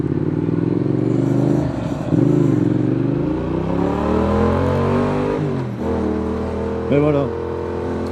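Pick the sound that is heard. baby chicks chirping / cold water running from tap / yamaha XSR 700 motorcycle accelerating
yamaha XSR 700 motorcycle accelerating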